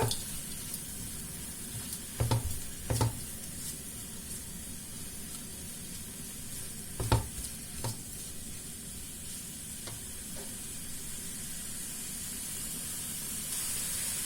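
Chicken in a wok simmers with stock, spices, and crushed garlic, giving a soft, steady bubbling sizzle broken by a few sharp clinks early and midway.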